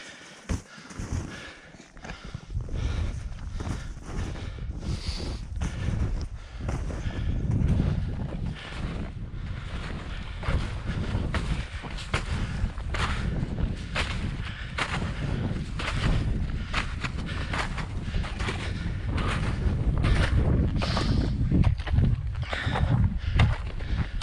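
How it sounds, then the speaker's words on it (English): Strong gusty wind on a mountain ridge in winter buffets the microphone continuously, with loud rumbling roars and sharp crackling bursts throughout. "I'm actually hiking into the wind now, so it's very slow going"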